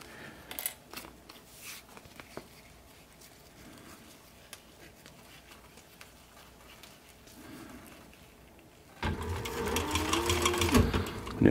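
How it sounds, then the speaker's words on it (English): Sewing machine stitching through layers of leather on a sun visor: a faint, steady mechanical hum with scattered ticks, then a sudden louder burst of fast whirring stitching near the end, close up with no talking. "make sure that needle's down in there"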